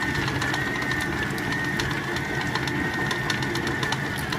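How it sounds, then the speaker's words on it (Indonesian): A large electric stand mixer beats eggs for nastar cookie dough at low speed, a loud steady motor whir with a rattling, knocking texture throughout, no talking. "untuk ini kan aku pakai mixernya mixer gede ya"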